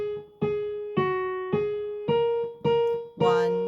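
Piano notes struck one after another at a steady, even pace, each ringing for about two beats before the next, six notes in all, played alone and close with no talking.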